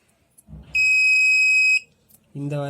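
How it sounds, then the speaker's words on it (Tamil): A Mastech MAS830L multimeter's continuity buzzer sounds one steady, loud, high beep of about a second, with brief handling clatter before it and speech starting just after. "ஸோ கனெக்ஷன் இருந்துச்சு அப்படின்னா பஸர் அடிக்குது"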